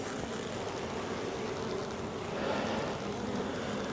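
Honey bees swarm over an open hive during a brood inspection of naturally drawn comb, making a dense, steady, close droning hum that fills the whole stretch without pause.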